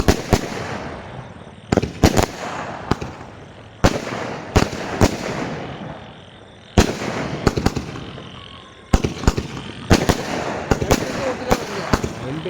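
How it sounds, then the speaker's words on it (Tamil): A 120-shot classic night fireworks cake fires a rapid, irregular string of loud, close bangs and crackling bursts, with short gaps between volleys and faint voices in the background. "சூப்பராக வெடிக்கிட்டு மழை"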